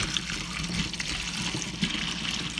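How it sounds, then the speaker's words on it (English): Pine cones being gently rinsed in cold water give a steady splashing, running-water wash, close and continuous, with no talking. "Now we're going to just wash them off in some cold water."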